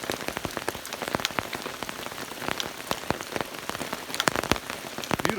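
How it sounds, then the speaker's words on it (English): Heavy rain drums on a camper van and tarp at a campsite, a dense patter broken by loud, close drops that smack the surface in an irregular rhythm. "That's a good thing when it's raining."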